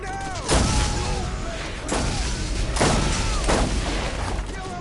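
Sniper rifle fire in Borderlands 1, four loud separate booming shots spaced about a second apart, each with a ringing tail, close and forceful.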